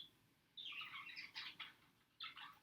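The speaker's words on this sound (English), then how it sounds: "My birds are really loud right now." Pet birds chirp indoors in quick bursts of high twittering and tweets, separated by short pauses and heard faintly with no voices.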